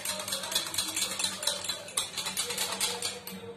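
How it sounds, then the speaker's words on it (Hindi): A spoon stirs a gram flour (besan) mixture for kadhi in a bowl, quick rhythmic scraping and light clinking strokes repeating steadily, close and alone. "ये 3 चम्मच हमने बेसन डाला है इसमें, इसे अच्छे से मिक्स करेंगे।"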